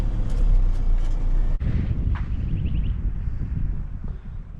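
Strong wind buffets the microphone at a sandy spot on the Burdekin River near the bridge at Macrossan, a loud, steady low roar with a brief dip partway through and faint rustling on top.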